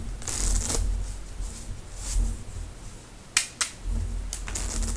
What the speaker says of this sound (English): I really am shuffling these cards